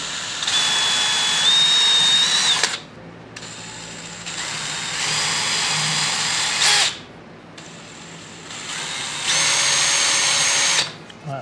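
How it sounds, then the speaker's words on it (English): A power drill drills wood on a VW Bus rear hatch door panel, whining in three long bursts with short pauses between them, loud and close, with no talking. "Just centering the drill bit on the little line I made."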